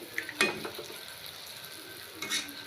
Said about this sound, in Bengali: তেলের মধ্যে দেওয়ার সঙ্গে সঙ্গেই এটা ছেড়ে যাচ্ছে কত সহজেই